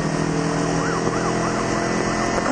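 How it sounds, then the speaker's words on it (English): Emergency vehicle sirens wailing steadily, rising and falling in a repeating cycle, loud and continuous over traffic noise from inside a moving car, with no talk. "I can't tell where the sirens are coming from."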